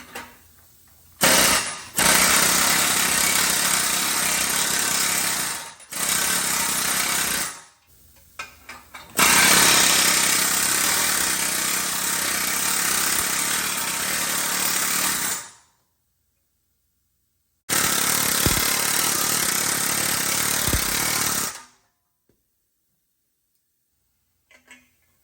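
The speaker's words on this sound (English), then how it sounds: "I'm gonna use a Bailey planishing hammer with a hard round die on it, and just real quick, smooth out the bottom of this pipe." A Bailey planishing hammer fitted with a hard round die smooths a Harley motorcycle exhaust pipe, a loud rapid-fire mechanical hammering in several bursts separated by short pauses and longer silences.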